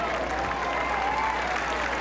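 Gallery applause around the 18th hole at the 1997 U.S. Women's Open at Pumpkin Ridge, a steady, dense clapping from a large crowd, moderately distant, continuing evenly throughout.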